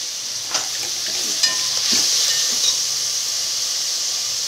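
Finely chopped green chillies and tomatoes go into oil with browned onions, producing a strong, even hiss of frying punctuated by a few light stirring clicks.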